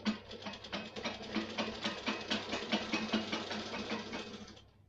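A sewing machine runs steadily nearby, its rapid needle clatter forming an even mechanical rhythm for several seconds before slowing and stopping, with no talking.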